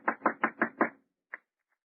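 Five quick, firm knocks on an apartment door in a radio comedy, loud and close in an even rhythm, then one last lone knock after a short pause.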